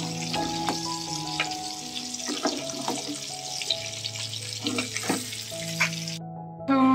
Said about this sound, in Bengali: এদিকে মাছ ভাজি বসিয়ে দিয়েছি